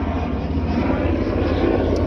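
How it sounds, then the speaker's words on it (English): Steady low engine rumble of a helicopter overhead, continuous and fairly loud throughout, with a faint voice in the background. "Why does the helicopters gotta come?"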